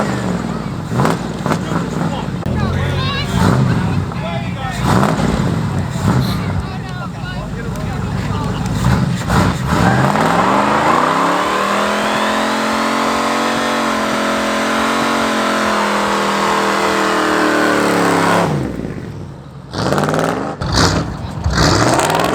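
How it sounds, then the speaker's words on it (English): Cars doing burnouts after a car show: loud engines rev and roar, one climbing in a long sustained sweep before cutting off abruptly, with tire noise and crowd voices mixed in nearby. "These people down here know how to do burnouts."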